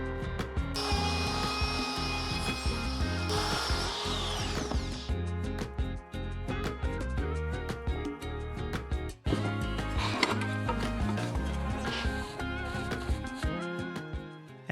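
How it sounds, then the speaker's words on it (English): A router cuts a small recess into the top of a wooden cabinet door, giving a loud, continuous high whine with rough, shifting cutting noise and brief dips as the bit moves through the wood. "I'm using my router to cut a small recess into the top of the doors for them to fit into."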